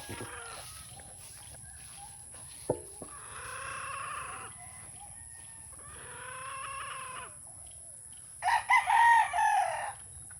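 Brood hens and roosters in a farm setting give several loud crows and clucks, one rooster crowing three times in succession, with a sharp knock early on and a fuller, louder call near the end.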